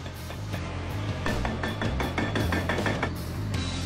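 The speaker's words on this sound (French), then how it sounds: "Attaquer les pieds au marteau hydraulique." A hydraulic breaker hammers at the steel legs of a prison watchtower during demolition, a run of sharp metallic impacts in an uneven rhythm over steady machinery noise.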